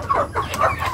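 Hens clucking close by in a backyard poultry setting, a series of repeated throaty clucks over a continuous low rumble of background noise.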